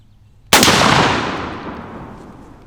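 A shotgun fires a Winchester Super X shell in a waterfowl choke-tube test at 20 yards: one sharp, loud, close blast after a brief quiet, then a long echoing decay that slowly fades outdoors.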